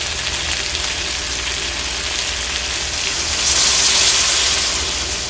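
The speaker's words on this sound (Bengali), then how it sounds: "এখন চলো দিয়ে দিচ্ছি পরিমাণ মতো জল।" Water poured into a pan of spiced vegetable curry with potato, papaya and bottle gourd stems, a steady close sizzling hiss that swells into a louder rushing gush partway through.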